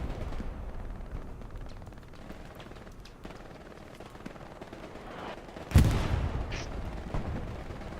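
Artillery shells land in the console shooter Hell Let Loose on the Foy night map: a low, muffled rumble of battle gives way to one sharp, loud blast that rolls off into a long booming decay, with fainter impacts after it.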